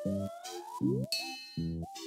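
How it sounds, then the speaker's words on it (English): Bright bell dings from a carnival strength-test game in a Sesame Street video game, each chime ringing out over short cartoonish electronic tones, clean and close with no talk. "now me ready to ring bell again."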